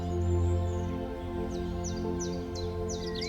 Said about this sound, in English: The sound of the birds, the sounds of the water.